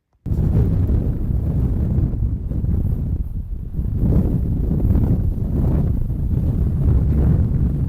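Strong wind on a Hebridean coast buffets the microphone with a loud, continuous low roar that surges and dips but never lets up.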